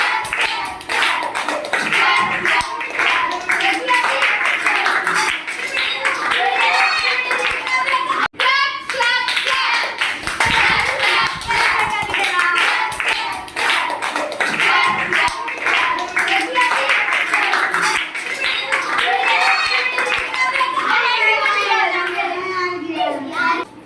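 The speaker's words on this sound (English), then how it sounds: "Clap, clap, clap." In a classroom clapping game, children clap their hands in quick rhythmic bursts, sharp close claps repeating throughout amid constant overlapping young voices chattering and chanting.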